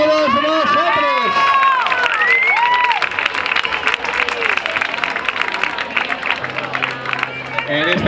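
An audience applauds at the trophy ceremony of the 2024 Zaragoza Half Marathon. A loudspeaker voice speaks first, then dense, sustained clapping and some cheering swell from a crowd and continue to the end.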